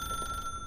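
A telephone rings with a steady electronic tone lasting under a second, moderately loud against faint background noise.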